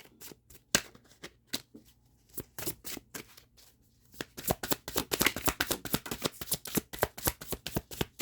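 Tarot cards riffled and shuffled by hand, crisp papery slaps and flutters, sparse at first then a rapid dense run of card snaps close to the microphone, no talk.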